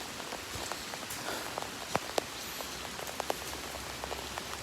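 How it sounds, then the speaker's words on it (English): Very heavy lake effect rain in Oswego falls in big, fat drops, a dense steady hiss of rain dotted with sharper individual splats and taps, with no voices. "Very heavy lake effect rain here in Oswego."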